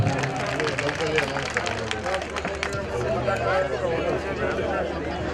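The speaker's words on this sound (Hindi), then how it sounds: "इनके लिए एक बार जोरदार तालियां।" Steady clapping rises from an audience at a devotional bhakti program for Shri Parshvabhairav, a moderate wash of hands mixed with crowd babble and a low background hum.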